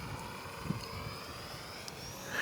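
A HobbyZone T-28 Trojan 450mm RC parkflyer warbird drones steadily overhead, its small electric motor a thin, continuous whine with faint wind buffeting, moderately distant and unbroken by speech.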